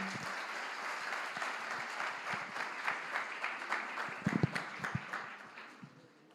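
A church congregation applauds during a celebration service, soft and somewhat distant, with a few sharper claps near the end as the clapping tapers off.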